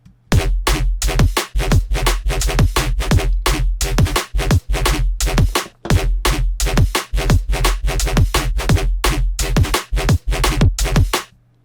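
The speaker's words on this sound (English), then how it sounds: "We're going to be making a neuro bass in Serum that sounds something like this" A gritty, growling neuro bass made in Serum rides a steady drum beat, dense and loud throughout with short rhythmic gaps, no voices.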